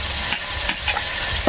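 Garlic sautés in a hot pan for sardine sinigang. It gives a loud, close sizzle broken by a few stirring scrapes.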